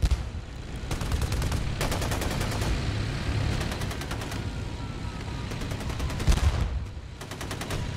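Enemy mortars and gunfire in the WWII game Theatre of War 2, set at Kursk 1943: steady, loud, rattling bursts of automatic fire repeat over a continuous low rumble of battle for the whole stretch.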